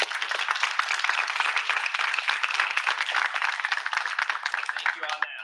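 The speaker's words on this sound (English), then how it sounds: "please give them a round of applause" An audience at the Aggies Invent event applauds the mentors with dense, sustained clapping that holds steady for several seconds and thins out near the end.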